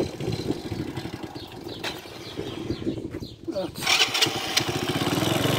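A stripped-down motorcycle engine runs in a workshop during carburetor adjustment, a rough, uneven idle that stumbles and then picks up louder toward the end, with faint voices underneath.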